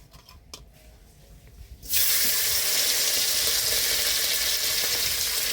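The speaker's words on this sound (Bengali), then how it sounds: "এবার চিংড়ি মাছটা দিয়ে দিব, তেলটা গরম হয়ে গেছে।" Quiet scraping at first, then a sudden loud sizzle as prawns hit hot oil, hissing steadily and densely without pause.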